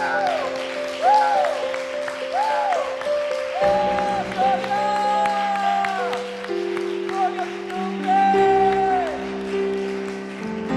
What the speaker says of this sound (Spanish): Dale una ofrenda de aplauso al Rey.